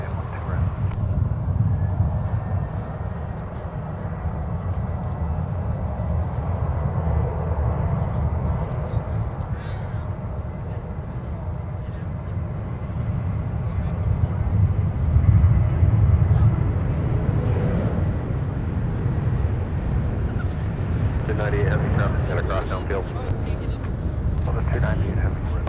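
An airliner departing at Minneapolis–Saint Paul airport gives a low, sustained engine rumble that swells midway. Gusty wind buffets the microphone, and a person talks over it.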